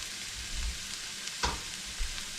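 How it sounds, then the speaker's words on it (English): Bacon fries in a pan, a steady close hiss of sizzling fat with a couple of faint knocks, no voices. "I am going to cook the bacon first to get that flavour coming out before I add my beef mince"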